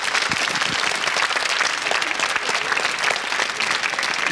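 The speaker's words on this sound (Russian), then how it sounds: "Взрыв аплодисментов" A burst of audience applause on a Russian television game show, dense, loud clapping from a large crowd that holds steady throughout.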